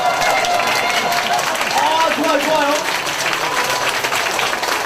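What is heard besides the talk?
audience applause at a seminar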